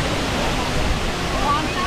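Rushing water at Kempty Waterfall in Mussoorie, a dense constant roar filling the scene, loud and close, with people talking over it.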